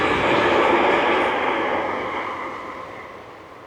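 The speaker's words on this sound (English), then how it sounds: "Actually, that was a passenger train" A passenger train rushes past close by near Dalry, a loud rumbling roar that gradually fades as it moves away.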